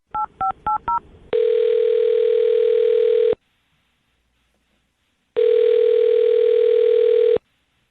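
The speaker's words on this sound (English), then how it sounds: "I'm going to dial her phone number right now" Four quick paired touch-tone beeps dial a phone number, then a steady ringback tone sounds twice, each about two seconds long, with a silent gap between them. The tones are clean and loud, with no talking.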